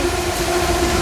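A loud, steady overhead train roar with a sustained metallic hum, continuous throughout, close by in an urban setting.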